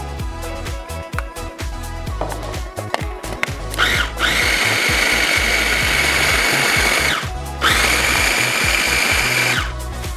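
A kitchen blender whirs loudly as it purees salsa ingredients, starting with a few short choppy pulses and then running in two long continuous bursts separated by a brief pause.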